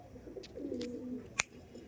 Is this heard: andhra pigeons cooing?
yes